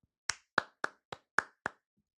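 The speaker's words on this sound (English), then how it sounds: "Let me give you a golf clap" Six slow, evenly spaced hand claps of a sarcastic golf clap, close and crisp in an otherwise quiet room.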